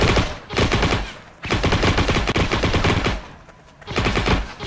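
Loud bursts of automatic MP40 gunfire in a video game, close up, in three rapid sustained volleys separated by brief pauses.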